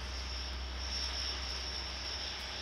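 Turboprop aircraft engine in the Tower Simulator 3 air traffic control game at Velana airport, Maldives, a steady droning hum with a high whine, constant and moderately loud with no talking.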